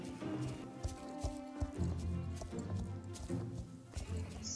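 Horse hooves clip-clop at a walking pace in the Star Stable video game during a horse-buying scene, a rhythmic series of moderate knocks over background game music, with no one speaking.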